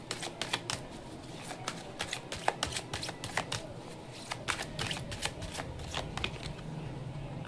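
Tarot cards are shuffled by hand in half-deck portions, a quick run of soft riffling flicks and taps at close range, steady and fairly quiet, with no voices.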